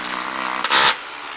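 A 1/4-inch bit bores a hole for a lead nail-drive insert during a steel cellar door install, a steady machine whir rising into a louder, brighter burst of cutting for under half a second before easing back.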